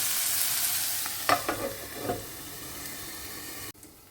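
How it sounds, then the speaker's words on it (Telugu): Dry prawns fry under a lid in a pan for an egg and dry prawn curry, giving a steady soft sizzle with a few louder stirring clatters in the middle; the sound drops sharply near the end. "వీటిని కొంచెం ఫ్రై చేయడానికి ఒకసారి ఒక వన్ మినిట్ మూత పెట్టేద్దాం"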